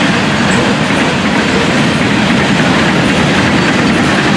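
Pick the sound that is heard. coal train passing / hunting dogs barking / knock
coal train passing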